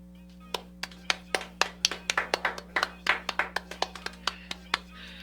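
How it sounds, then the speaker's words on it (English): A small group claps for a guest on an entertainment talk show, a sparse run of distinct, separate hand claps over a steady electrical hum, close and moderately loud. "Let's give him a round of applause"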